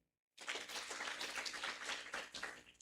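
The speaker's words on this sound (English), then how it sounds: "let's clap for Joanne" Audience at a business summit breaks into sudden, dense applause after a brief silence, loud many-handed clapping sustained for a couple of seconds.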